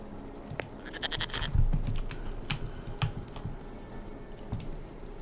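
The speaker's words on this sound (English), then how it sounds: "dodges and you hear a goat go off" A goat bleats as a sound effect during a tabletop role-playing game, a short harmonic bleat near the start over low room noise, with scattered clicks and bumps afterward.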